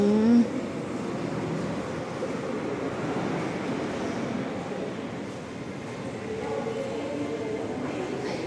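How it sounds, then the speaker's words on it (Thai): Ambience at Taling Chan railway station in Thailand: a steady, moderate wash of broadband noise, like a train or wind rolling through, with faint murmuring in the background and a brief brighter sound at the start. "บรรยากาศสถานีรถไฟตลิ่งชันค่ะ"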